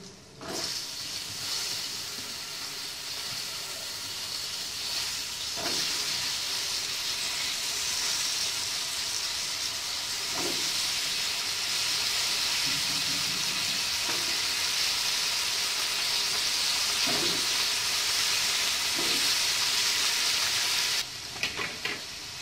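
Pumpkin pieces hitting a hot pan, followed by loud, continuous sizzling and frying hiss with occasional stirring scrapes, steady for about twenty seconds before tapering at the end.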